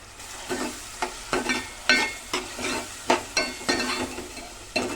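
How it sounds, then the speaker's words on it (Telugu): Tomatoes cooking in a pan, with a continuous soft sizzle broken by regular scraping strokes of a spoon, about two per second, close and fairly quiet. "టమాటా వేసేస్తున్నా చూడండి"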